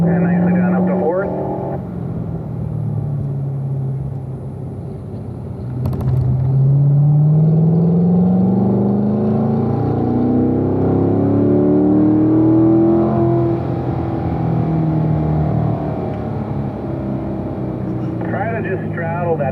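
A Corvette on the Spring Mountain circuit accelerates and shifts up through the gears, its engine tone sweeping steadily upward over a low rumble, with a voice talking over much of the run.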